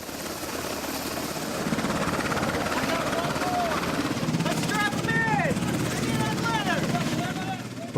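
A helicopter ferries patients to the U.S.N.S. Comfort hospital ship, its rotor producing a steady, loud thudding drone that fills the scene, while someone talks over it.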